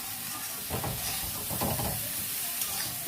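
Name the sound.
stirring and frying spiced nota greens in a pan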